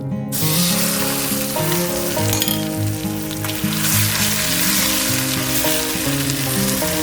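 Green pea paste, added after frying asafoetida, sizzles and is stirred constantly in a pan for pea kachori, the steady frying hiss running beneath loud background music.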